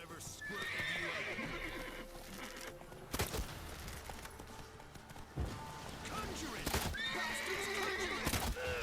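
In the video game Witcher 3, the horse Roach neighs several times over clopping hooves, with sharp bursts of game combat noise breaking in and someone talking throughout.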